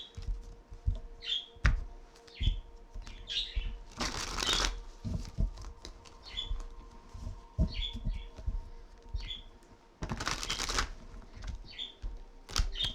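Transparency Tarot cards being shuffled by hand in repeated riffling bursts, with two louder, longer flurries of card noise among softer taps and snaps; close and clear, with no talking.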